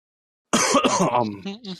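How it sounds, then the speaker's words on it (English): A single throat-clearing cough up close, the sound trailing off into voiced rasp after a brief silence. "I just had to add the cough in there"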